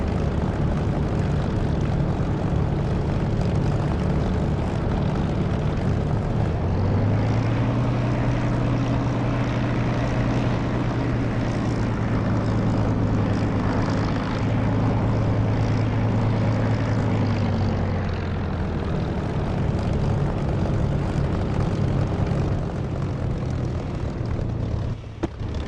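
A Spitfire's piston engine roars steadily for takeoff in a combat flight simulator, a loud continuous propeller drone whose pitch rises and holds through the middle before easing, with no talking over it.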